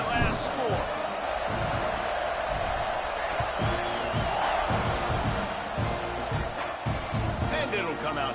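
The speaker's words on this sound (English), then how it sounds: "this crowd is buzzing after that last score" A football stadium crowd buzzes with steady, dense murmur and scattered cheers after a score, a continuous loud roar running under a play-by-play voice throughout.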